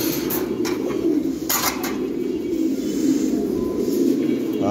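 Fancy long face pigeons, a pair at a pigeon farm in Bangladesh, coo steadily in a low continuous murmur, with faint chirps and brief higher sounds above it.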